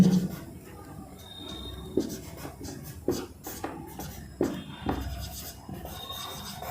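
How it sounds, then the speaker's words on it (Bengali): Someone writes on a board at close range, with scratchy strokes broken by periodic sharp taps as each mark starts. "এখানে লিখে দিই"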